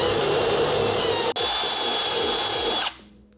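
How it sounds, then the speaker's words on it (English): A power drill bores a bit into the ignition mount hole of a 2006–2007 Suzuki GSX-R 600/750 motorcycle: a loud, steady whine for about three seconds with one brief break, then the motor spins down. "So I'm just gonna use this drill bit here and drill right in"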